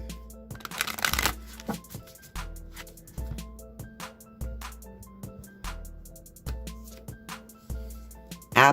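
A deck of oracle cards being shuffled by hand, with repeated riffling bursts and soft slaps as the cards fall back together, in a quiet room, close and fairly gentle.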